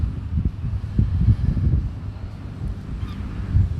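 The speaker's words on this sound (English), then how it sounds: "Oh, we're getting a lot of wind." Strong wind blows outdoors beside a pond, buffeting the microphone with a continuous low rumbling roar and uneven gusts.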